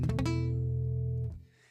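A guitar chord is strummed and rings briefly with a dull, somewhat choked tone before stopping abruptly.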